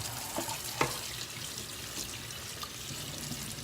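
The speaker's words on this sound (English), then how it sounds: "Rinse it off some." Tap water runs steadily while something is rinsed under it in a home kitchen sink, a soft continuous wash with a couple of brief splashes and clinks near the start.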